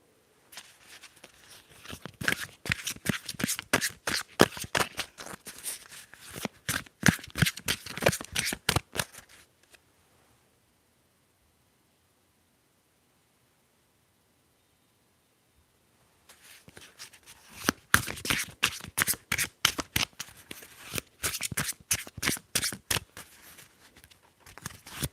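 Tarot cards are shuffled close up in two long runs of crisp, rapid riffling and flicking, separated by about seven seconds of near silence.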